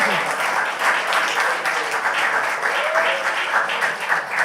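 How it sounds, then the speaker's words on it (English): Audience applause at a hearing on Black men and mental health, steady and sustained throughout, a dense crowd clapping at close range with voices faintly mixed in. "Y'all clap your hands, young people."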